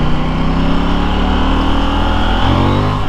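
A KTM 890 Duke R motorcycle engine pulls hard under acceleration, loud and close. Its pitch climbs steadily for three seconds with no talk over it.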